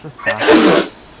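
One short, loud sneeze bursts out up close, and someone speaks briefly just before it.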